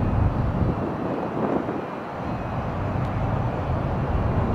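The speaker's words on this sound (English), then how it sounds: "I thought that exec jet was going awfully slow." A small executive jet rolling slowly along an airport runway, a broad continuous engine roar mixed with wind rumble, steady and moderately loud throughout with no talk.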